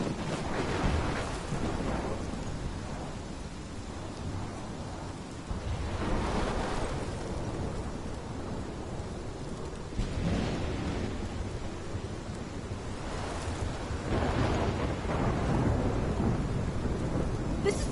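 Thunderstorm in the video game Life is Strange, with steady heavy rain throughout and several deep rolling thunder peals spaced across the clip, loud and enveloping, with no speech.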